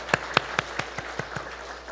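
A church congregation at a Korean Sunday service gives a short round of claps. About eight distinct, fairly faint claps come at an even pace and slowly taper off, with no voices over them.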